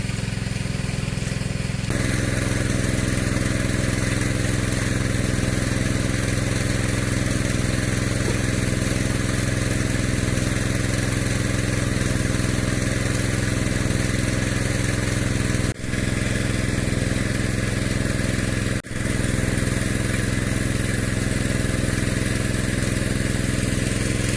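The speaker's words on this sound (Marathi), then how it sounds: "आपण मशीन ठेवली असल्यामुळे तिची घडघडावून आवाज येतात" A machine engine rattles and chugs continuously at close range, with a couple of brief knocks partway through.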